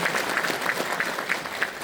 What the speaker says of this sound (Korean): 동의하시면 큰 박수 한번 부탁드리겠습니다